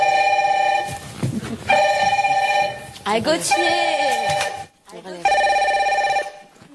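A red telephone rings on a French reality TV show, giving several loud, bright electronic ring bursts with short gaps between them while a person exclaims and talks over the ringing.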